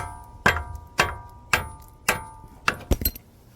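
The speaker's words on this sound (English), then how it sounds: "And then you just tap this off here with a hammer" Six sharp metallic hammer taps at a steady pace on a 1983 Ford E350 front brake rotor, each ringing briefly, the last two coming closer together.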